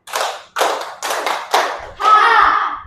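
Pupils in a classroom clapping game strike their hands together as one group: four crisp, loud claps in quick, uneven succession, then a sustained shout from the class.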